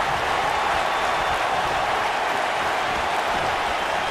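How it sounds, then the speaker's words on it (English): Dense, steady roar of an arena crowd cheering at a WWE 2K video game wrestling pay-per-view, a loud continuous wash of voices with no distinct breaks. "I don't remember the last time I heard a more passionate crowd than the one we have here tonight"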